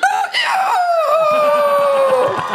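A man imitates a rooster crowing in a Korean TV variety-show talent segment, voicing one long drawn-out cock-a-doodle-doo that starts high and loud and slides slowly downward, close and alone, with faint studio noise under the tail.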